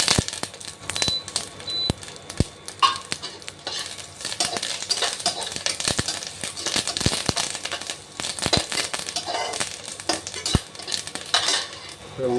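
Sliced green chillies and curry leaves fry in hot oil in a pan for chicken gravy, with busy crackling and sizzling up close and frequent metal spoon clinks as they are stirred.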